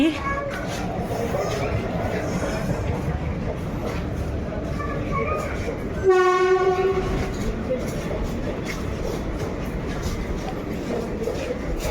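A train moves through a railway station, its rolling rumble running throughout, with a short, loud horn blast partway through; people talk in the background.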